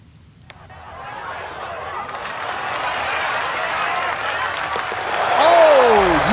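A golf crowd in EA Sports PGA Tour applauds a long birdie putt on the 17th hole, steady clapping and murmuring swelling into louder cheering, with a commentator's voice under it.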